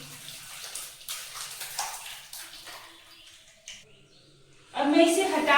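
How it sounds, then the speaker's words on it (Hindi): Chhena curds and whey are poured from a pan through a cotton cloth laid over a tea strainer into a bowl. Faint splashing under soft talk gives way to a loud, steady rush of pouring liquid near the end. "अब मैं छेने को डालूंगी।"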